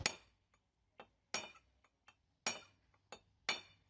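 Sharp metallic taps ring out one after another as a hole punch is struck on hard steel of a washing machine drum, several strikes at an uneven pace with short ringing decay, close and fairly loud.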